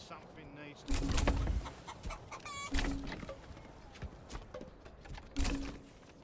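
Chickens clucking from chicken coops in Manor Lords, repeated short clucks and squawks in bursts over a rustling, clopping farmyard backdrop, with speech-like sounds mixed in.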